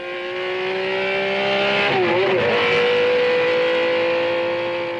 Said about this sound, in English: Then accelerate again for this short straight.